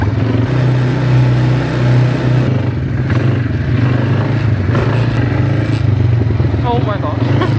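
A quad bike engine drones steadily and loudly throughout a ride on a desert tour near Agadir, Morocco, with rattling and scraping from the terrain and riders' voices breaking in over the continuous motor noise.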